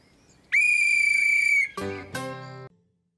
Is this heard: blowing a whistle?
yes